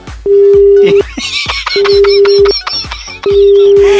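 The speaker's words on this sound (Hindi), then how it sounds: "इन्होंने तो फोन काट दिया है" A repeated steady telephone tone sounds three times in loud pulses, broken by clicks and brief chirpy bursts, like a line cut off.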